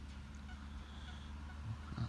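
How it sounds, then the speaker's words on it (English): A goose-like bird honks from a post in a park by a lake, a few faint, distant honking calls over steady outdoor background noise, with no talk. "That bird right on that post there."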